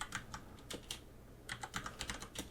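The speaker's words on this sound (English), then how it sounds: "I'll type the words in" Quiet typing on a computer keyboard, light irregular key taps in two short runs separated by a brief pause, close and alone with no talk.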